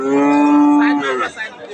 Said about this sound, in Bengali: গরু তাহলে দুই তিনটা আছে